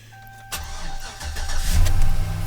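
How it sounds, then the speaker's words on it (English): An LS V8 engine cranks and catches, then settles into a deep, rumbling run that grows louder and rougher, heard up close with no talking. "Nothing better than the sound of an LS in the morning."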